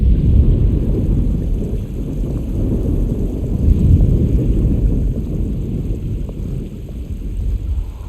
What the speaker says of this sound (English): Just keeping an eye out for the storm.